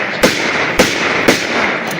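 Gunfire salute at a funeral for a Fano fighter: three sharp, loud shots at roughly half-second intervals over a steady background rumble.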